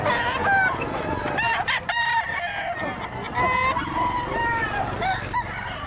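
A rooster crows repeatedly at a busy pet market, loud and close, with other fowl clucking and a goose-like honk among background chatter and market noise.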